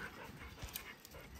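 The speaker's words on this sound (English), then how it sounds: "These are all the work dogs." An excited working dog on an Australian sheep farm pants and whimpers. The sound is faint and close against steady outdoor background noise.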